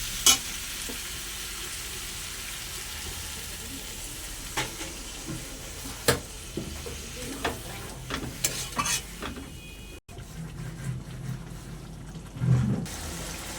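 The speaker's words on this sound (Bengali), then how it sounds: "এবার আমি পরিমাণ মতো জল দিয়ে দেবো।" Water goes into a frying pan of spiced banana flower cooked with prawns, giving a hissing, bubbling sizzle with intermittent clatter of stirring, fairly quiet overall with a sharp surge of boiling toward the end.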